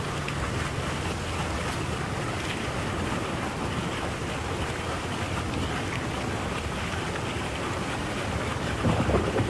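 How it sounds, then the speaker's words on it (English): Continuous rushing water in an in-game shower, set outdoors in a storm in Elder Scrolls Online, a broad, steady wash of noise with no talking over it. "Oh yeah, we're gonna take a nice shower right here."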